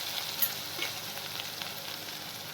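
Garlic, ginger and green chili paste with asafoetida sautéing in hot oil in a pan, a steady moderate sizzle with a few light clinks of a stirring spoon, nobody talking.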